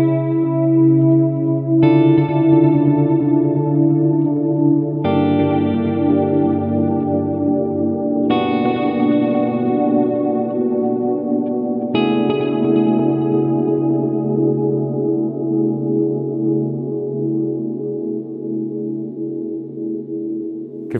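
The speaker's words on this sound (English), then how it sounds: "turn up the repeats and listen to kind of a dark wash ambient delay here" A Strymon DIG dual digital delay pedal with the repeats turned up washes a sustained, dark ambient cloud of layered guitar chords, each new strum blooming and smearing into long decaying echoes, loud and continuous with no talk.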